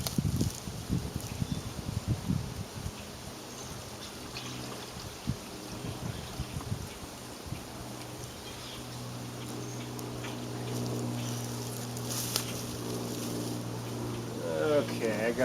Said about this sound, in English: Next, we want to take some coolant and pour it into